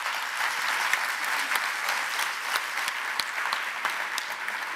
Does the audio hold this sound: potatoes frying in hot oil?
no